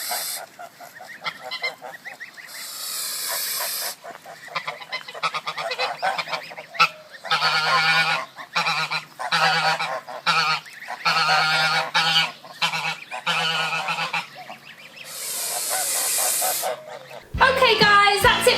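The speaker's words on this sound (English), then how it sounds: "these two geese who are honking and hissing at somebody who's trying to get too close to their babies" A pair of geese guarding their goslings honk repeatedly in loud, ragged bursts and let out long harsh hisses at someone approaching too close, the calls coming close and insistent.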